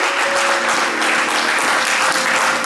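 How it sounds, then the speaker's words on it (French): A church congregation at a Sunday service applauds to acclaim the word of God, producing steady, dense, loud clapping that fills the room from start to finish. "On acclame la parole de Dieu."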